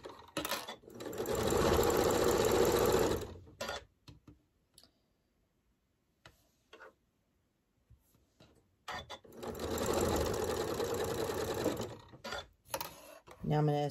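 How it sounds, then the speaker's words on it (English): A sewing machine stitching quilt fabric runs in two steady bursts of rapid stitching, separated by a quieter pause with small clicks and handling noises. "now I will go to the sewing machine and I will just sew a quarter of an inch here"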